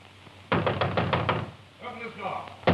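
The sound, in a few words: knocking and pounding on a door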